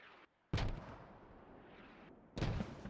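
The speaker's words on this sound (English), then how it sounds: "Those are enemy mortars!" Mortar fire in the tactical shooter game Squad, two heavy booming blasts about two seconds apart with a rumbling tail between, moderately distant, no talk.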